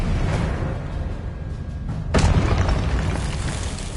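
Spell blasts in a Harry Potter video game: a rumbling rolling explosion builds, then a sharp, loud second burst hits about halfway through and booms on, no talking.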